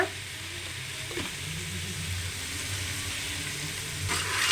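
Sprouted horse gram sautéing in oil with salt for a curry: an even, moderately quiet frying sizzle with occasional soft stirring scrapes against the pan.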